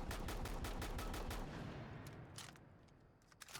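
Rapid bursts of shotgun fire from a video game, Rainbow Six Siege, during a close-range test, loud and densely repeated at first, then thinning out into a few scattered shots near the end.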